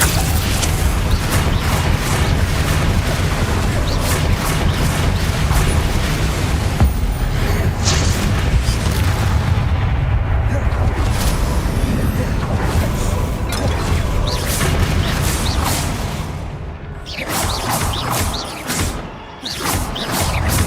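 Explosive Confringo spell blasts in Hogwarts Legacy on PC, loud repeated booms and crackling bursts packed densely through a continuous din of combat effects, easing briefly near the end.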